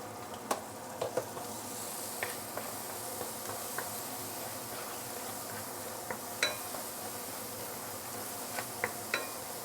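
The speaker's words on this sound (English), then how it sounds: "Let's saute this for at least a minute or two before we continue." Beans stir-fried in a wok with sambal belacan, soy sauce, sugar and salt give a soft, steady sizzle, with scattered light ticks and clinks of stirring and no talking.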